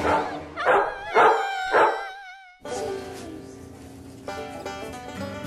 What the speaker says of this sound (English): All of a sudden, the dog started running towards the mice.